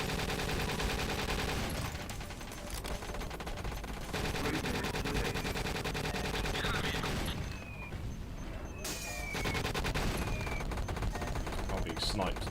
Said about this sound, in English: I'm being sniped now.